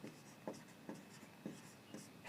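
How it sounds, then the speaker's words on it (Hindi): A pen scratches quickly across paper while an equation is written out by hand, a close, quiet run of short rhythmic strokes with no talking. "तो समीकरण लिखेंगे।"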